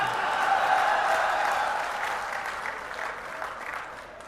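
A crowd applauds at a Lok Sabha 2024 election rally in Rajasthan. The clapping is dense and steady throughout and slowly tapers toward the end.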